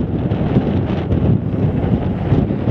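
Strong wind buffets the microphone on the exposed slopes of Coniston Old Man, a steady, loud, broadband roar with gusty surges throughout.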